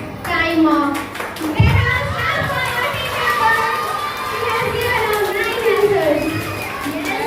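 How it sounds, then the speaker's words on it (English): A room of schoolchildren claps for a team during an interhouse junior quiz, uneven clapping mixed with lively children's chatter and shouts running throughout. "Let us clap for your team"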